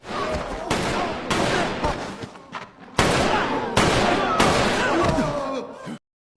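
Gunshots from a Squid Game film scene ring out in rapid, loud bursts of gunfire, several volleys in a row, close and sharp over a noisy scene, with a voice faintly beneath.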